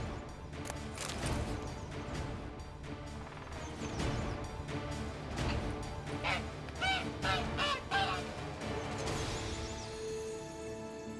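Goose honking in The Witcher 3: Blood and Wine, a run of loud, close, repeated nasal honks and squawks with flapping clatter, continuing for several seconds without speech.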